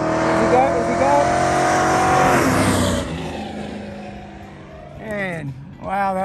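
A 1968 Ford fullsize muscle car with a 390 engine runs a hot lap on a race track, its engine roaring loud and near before dropping away, then briefly rising again as tires squeal. People talk over parts of it.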